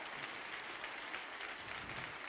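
Church congregation applauding together after a call to clap for Jesus, a steady dense wash of clapping filling the room without pause.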